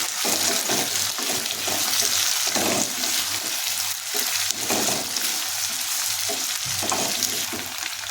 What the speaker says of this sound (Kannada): ಕಟ್ ಮಾಡಿಕೊಂಡಿರುವಂತಹ ಒಂದು ಆಲೂಗಡ್ಡೆಯನ್ನು ಸೇರಿಸಿ ಇದನ್ನು ಸಹ ಅರ್ಧ ನಿಮಿಷ ಫ್ರೈ ಮಾಡ್ತೀನಿ